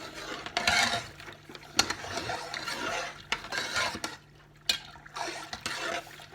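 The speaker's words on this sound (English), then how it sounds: "A wee stir to get it moving." Macaroni stirred in a pot of water, soft swishing and liquid movement with occasional spoon clinks against the pot, fairly quiet and close.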